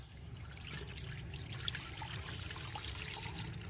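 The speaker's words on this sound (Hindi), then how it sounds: "और अब इसमें ये दूध डालकर" Milk pours into a pan of chopped dried dates for malai doodh jalebi, making a close, steady, soft liquid trickle that lasts throughout with no talk.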